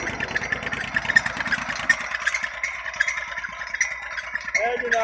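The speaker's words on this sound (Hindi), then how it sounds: "8 इंच का पाइप खिंच रहा ट्रैक्टर" A tractor engine runs steadily close by, driving a pump that pulls canal water through an 8-inch pipe, with a low rhythmic chugging and rattle throughout and voices talking over it.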